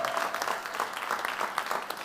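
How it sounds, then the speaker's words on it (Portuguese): An audience at a church talk claps steadily for about two seconds, a dense, even patter of many hands close by. "Vamos aplaudir."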